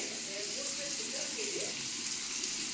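Tarli fish sizzles and crackles steadily in a hot pan, a constant close frying hiss with a faint voice murmuring underneath.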